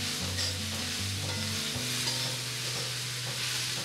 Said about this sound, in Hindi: इसको हम अच्छे से हिला देंगे